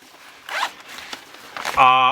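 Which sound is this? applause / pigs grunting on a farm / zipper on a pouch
zipper on a pouch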